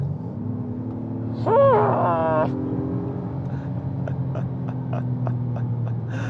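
A 2024 Acura MDX Type S SUV cruises along a road at the speed limit, a steady low engine and road rumble running through while a voice talks over it.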